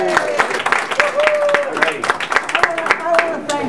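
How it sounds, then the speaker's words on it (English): Audience at a secret renegade art event claps in a burst of scattered, close handclaps, with whoops and voices mixed in over the applause. "Applause for Greg for this good idea."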